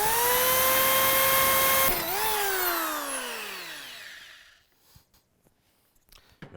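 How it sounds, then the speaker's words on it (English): A drill boring holes in a third-generation Toyota Tacoma truck bed for bed rail stiffeners, its motor whining at a steady high pitch before spinning down and fading, followed by a few faint clicks and knocks. "we'll go ahead and pull this all back off and drill our holes"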